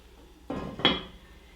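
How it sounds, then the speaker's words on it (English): A lid is set onto a pot of braised kale, giving a soft metallic clack followed by a brighter, ringing clink, close and brief in a quiet kitchen. "all I need to do at this point is just put a lid on"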